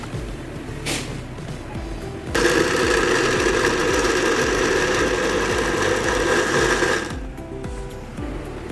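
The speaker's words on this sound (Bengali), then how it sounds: "এখন আমরা সবগুলো উপকরণ একসাথে ব্লেন্ড করে নেব।" A kitchen blender purees chicken with other ingredients for chicken donuts, a loud steady whir starting suddenly and running about five seconds before cutting off, with quieter clatter and handling sounds before and after.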